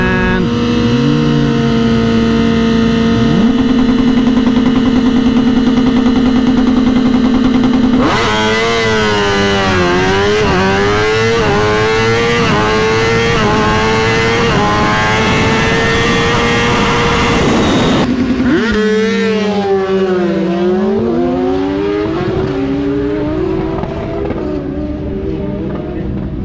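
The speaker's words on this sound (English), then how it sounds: "Bike just hits the rev limiter before the finish line." A tuned motorcycle at a drag race revs hard and loud, up close, with a rising engine whine that climbs through repeated accelerations, bounces off the rev limiter in stuttering pulses, and then drops and climbs again without any talk.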